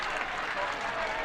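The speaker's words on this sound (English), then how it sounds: "Some applause" Applause rises from the stands at a high school football game between Kenton and St. Marys, a steady broadband wash of clapping from the crowd heard at a distance, continuous and even throughout.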